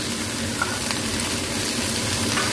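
Chopped onion, vegetables and ginger garlic paste fry in a pan with a constant, even sizzle and light stirring, close and unbroken, with no voices.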